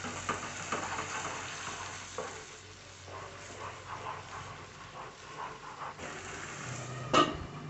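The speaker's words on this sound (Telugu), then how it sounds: "ఈ పచ్చివాసన పోయే వరకు చక్కగా ఫ్రై చేసుకోవాలండి" Ginger garlic paste fries in hot oil for a prawn curry, a soft continuous sizzle under occasional spoon stirring, ending with a sharp metallic clink.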